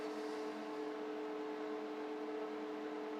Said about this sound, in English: Just the heater running in the background